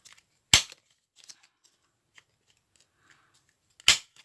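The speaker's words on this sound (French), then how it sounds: "On arrondit nos angles." Two sharp, loud snaps from a corner punch rounding the corners of a paper mini album cover, a few seconds apart, with faint rustling and light handling clicks between them.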